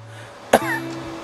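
A man lets out a single sharp cough, close and loud, followed by a brief voiced rasp against quiet room tone.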